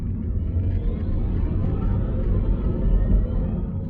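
Mini SE electric car accelerating on twisty roads, heard from inside as a steady low rumble of road and drivetrain noise with a faint rising whine, continuous and fairly loud.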